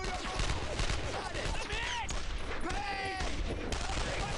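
Close, loud World War II gunfire in Brothers in Arms: Earned in Blood, overlapping automatic rifle and machine gun bursts crackling without pause, mixed with shouted voices.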